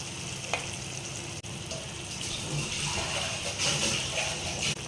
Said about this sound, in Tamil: இப்போ இது நல்லா கொதிக்கட்டும்